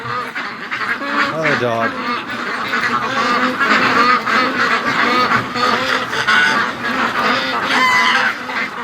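Free-range ducks and geese let out of a pen honk and quack loudly in a dense, overlapping chorus, close by and constant, while a person speaks briefly over the flock.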